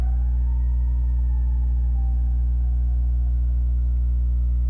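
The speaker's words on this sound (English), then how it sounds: "Disregard the ambulances, y'all." An ambulance siren outside wails in a steady rising and falling tone over a constant loud low hum, with no talking.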